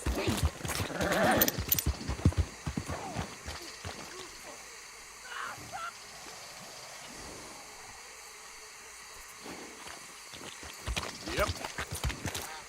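Horse hooves clip-clopping in a video game, heard as irregular bursts of hoof clatter at the start and end with a quieter stretch between, and a voice speaking briefly.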